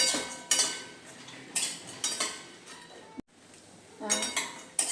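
Dry fruits stirred and roasted in ghee in a pan for khajur pak, with repeated scraping and clinking of a spoon against the metal in irregular bursts, close and fairly loud.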